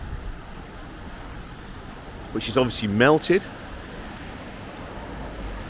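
A high, rain-swollen river rushes under the village bridge in Bibury, a constant broadband wash with wind buffeting the microphone as someone speaks briefly in the middle.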